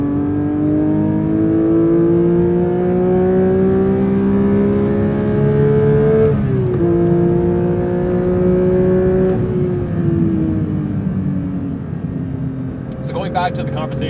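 Manual Porsche 992.1 GT3 on a freshly repaved road, its engine loud and close with rising revs and distinct drops at two gear changes, then easing off near the end.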